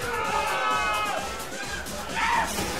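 A fighting game tournament crowd at Capcom Cup 2013 shouting and cheering during a Super Street Fighter IV Arcade Edition match, a loud roar of mixed voices that swells toward the end.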